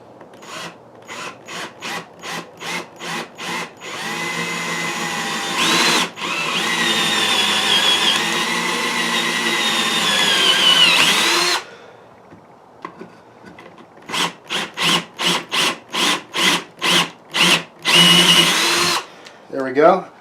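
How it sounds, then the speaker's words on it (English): A power drill bores a hole about 1.5 inches deep into a wooden block, with a series of short bursts at first, then a long sustained grinding run, followed by another set of rapid pulsed bursts, all close and loud. "Okay, so now we're going to take the drill bit here."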